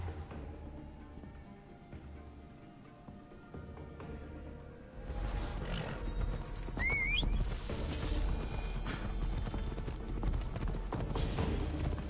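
Horse hooves in Assassin's Creed Odyssey, a steady clip-clop of galloping that swells louder partway through over a constant game background, with a brief whinny-like call.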